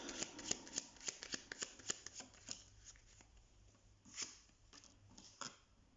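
Tarot cards being shuffled by hand, a quick run of crisp riffling snaps that thins into sparser, softer card slides, quiet and close with no talking.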